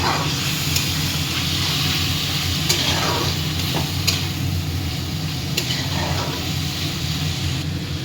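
Malabar spinach, tomato and potato with turmeric stirred in a hot pan, giving a steady, close sizzle with a few faint scraping strokes throughout.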